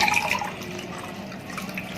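Water, about two cups, pours and splashes steadily into a pot nearby, a continuous liquid rush at moderate loudness.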